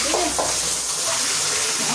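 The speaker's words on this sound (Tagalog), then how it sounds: "Sarap daw kung malakas ang tubig." Water gushes strongly and steadily, a broad close hiss like a running tap, while a duck is bathed, with a brief voice-like sound early on.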